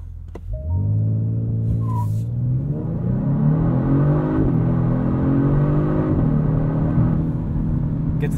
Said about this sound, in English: Let's see what a 0 to 60 launch control start feels like.